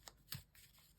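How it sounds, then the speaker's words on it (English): Small playing cards being shuffled by hand, a few short papery riffling bursts close up and fairly quiet, with no voices. "give them a shuffle"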